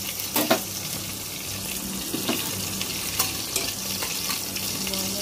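Dried red chillies fry in a pan while being stirred, giving a constant close sizzle and crackle with a few sharper scraping knocks from the spoon near the start, and no talk.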